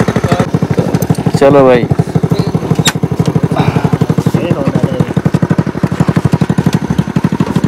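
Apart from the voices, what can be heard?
motorcycle riding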